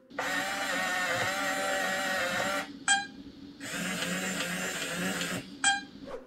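The electronic tower at the centre of the Return to Dark Tower board game gives two long, loud mechanical whirring bursts, each ending with a sharp squeak like an old printer, and a brief pause separates the two.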